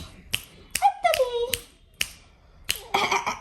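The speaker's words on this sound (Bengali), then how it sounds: "হাততালি" A handful of sharp, irregular hand claps up close, spaced unevenly, with a sing-song voice crooning between them.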